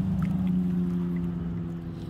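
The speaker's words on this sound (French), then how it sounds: "on va laisser le moteur, ce gros moteur là passer" A large motorboat engine passes on a river, a steady low drone with a strong hum holding close and loud throughout, with faint water sounds and no voices.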